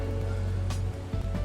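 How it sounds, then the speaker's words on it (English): Rain falls steadily in Halo Reach machinima, a continuous close hiss of drops with a low rumble beneath and no talk. "Haven't you noticed all the rain recently?"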